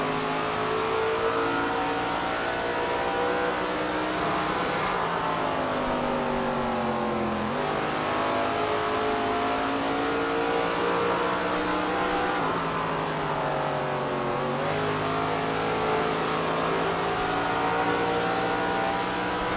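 Race car engine in SRX The Game, a loud continuous drone that rises and falls as it revs through gear changes around the track, steady and close with no other sounds.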